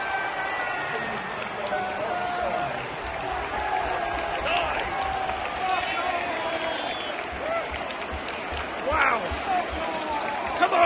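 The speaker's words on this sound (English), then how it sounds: "Big applause for Cam Archer here." Stadium crowd at a Southampton versus Everton football match applauding a player, a steady broad wash of clapping and crowd noise that runs throughout, with a commentator's voice audible over it.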